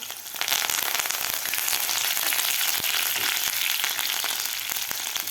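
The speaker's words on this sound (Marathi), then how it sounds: "कढीपत्तासुद्धा व्यवस्थित आपल्याला फ्राय करून घ्यायचा आहे" Curry leaves and chillies frying in oil in a pan, a dense steady sizzle with sharp crackling pops throughout, close and continuous after a quieter first half-second, with no talking.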